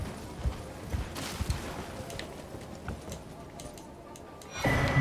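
Horse hooves clip-clop unevenly in Elden Ring in the Caelid region during co-op play, a few thudding steps amid wind-like noise, with a louder burst at the end and a voice faintly present.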